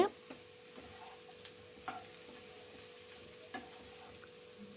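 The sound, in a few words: frying bitter gourd with onion and spices in oil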